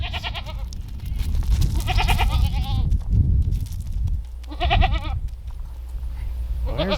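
A herd of goats at breeding season, a buck with his does, bleat loudly and nearby, four separate wavering calls spaced a second or two apart over a low, rumbling background.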